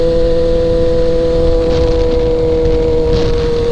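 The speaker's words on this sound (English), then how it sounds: "I was wondering when my exhaust pipe sounded so loud." A motorcycle with a loose exhaust pipe hanging off makes a loud, steady engine drone with a strong buzzing tone, and wind rushes over the microphone as it rides along.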